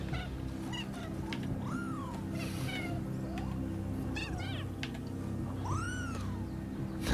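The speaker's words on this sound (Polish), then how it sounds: "ten kotek przemówił" A cat in the game Nioh 2 lets out several meows and rising-falling cries, scattered across a steady rumbling game soundtrack with occasional chirpy effects.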